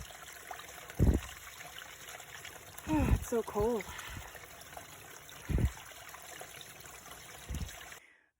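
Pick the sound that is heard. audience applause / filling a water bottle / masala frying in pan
filling a water bottle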